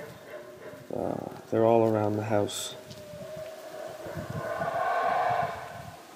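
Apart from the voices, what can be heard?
howler monkeys calling at night in the Belize jungle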